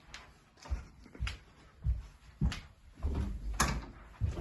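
A door is repeatedly shut hard indoors during a heated family argument. Several sharp thuds land at irregular intervals, each a short knock with a brief rattle, with no talking between them.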